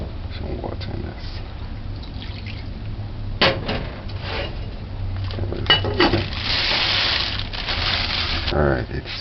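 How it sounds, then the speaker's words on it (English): Water pours into a cooking pot for cornmeal porridge, a steady splashing stream swelling in the latter half, close and fairly loud, with some clanks of the pot and background noise. "Some water in this."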